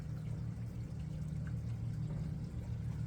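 Water runs steadily into a large aquaponics flood-and-drain grow bed, a continuous soft pouring wash over a low hum that stays even throughout with no voices.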